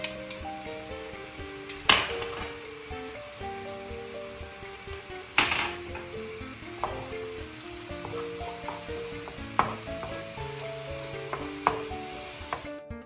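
Steady sizzling of mushrooms sautéing in a pan with grated garlic and black pepper, with a spatula stirring and occasional sharp clinks of utensils against the pan.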